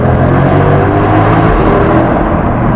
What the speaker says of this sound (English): Oh, that's the Porsche.